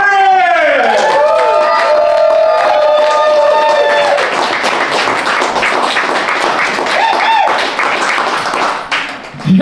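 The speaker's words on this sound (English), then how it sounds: "Hey, keep cheering for me." A comedy club audience cheers and applauds loudly for a comedian; whoops and shouts rise over dense clapping at first, then settle into sustained applause that fades near the end.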